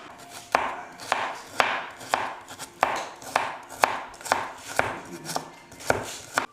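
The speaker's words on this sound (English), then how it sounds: "Okay, so we have done the cutting. We have all our carrots, our onions, our peppers." A knife chops carrots, onions and peppers on a board in about a dozen crisp, close strokes, spaced roughly half a second apart in a steady rhythm with no speech.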